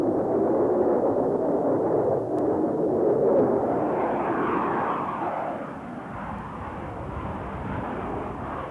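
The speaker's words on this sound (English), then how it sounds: "Canberra pilots were stunned to find this new American aircraft making vertical" An F-8 Crusader jet making vertical passes gives a loud, continuous engine roar that swells, then shifts and eases slightly as it passes, with no voices.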